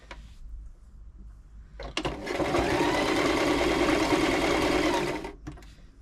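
A Toyota Oekaki RS2000 household sewing machine being serviced runs a steady stitching burst of about three seconds, loud and close, with a brief mechanical clunk at the start and quiet before and after.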